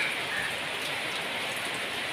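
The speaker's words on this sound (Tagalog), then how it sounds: "Isa pong magandang umuulan na umaga po sa inyong lahat mga kaibigan." Steady morning rain falls outdoors, a dense, even hiss of drops on surfaces throughout with no voices.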